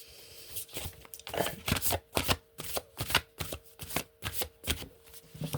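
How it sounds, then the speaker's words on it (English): Tarot cards being shuffled in a rapid series of crisp riffling bursts with brief pauses between, close and clear with no talking. "I'm going to shuffle these another way"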